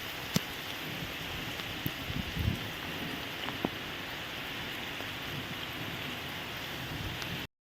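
Steady heavy rain pours down in a jungle by a fishing spot, a dense continuous hiss with a few faint knocks and no talking.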